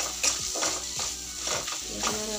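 Spice masala for chole roasting in a pan while a spoon stirs it, rhythmic scraping strokes about every half second over a constant sizzle, close and clear.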